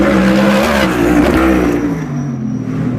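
A NASCAR race car drifts through a sharp left-hand corner on a Chicago street circuit, its loud engine roaring while the tires squeal and skid, the noise easing off toward the end.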